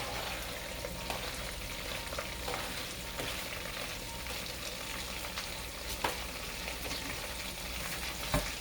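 Onions, green onions and garlic fry in rendered bacon fat, a continuous dense sizzle up close with a few faint clicks of stirring.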